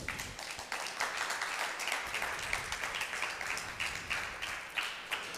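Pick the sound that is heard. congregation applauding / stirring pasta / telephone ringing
congregation applauding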